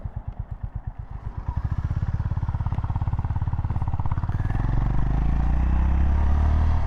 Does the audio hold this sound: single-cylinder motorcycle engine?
yes